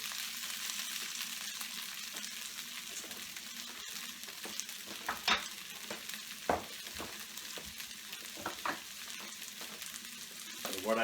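Cabbage sizzles and crackles steadily in a hot pan as it fries and browns, with scattered sharper pops and spatters rising over the continuous hiss.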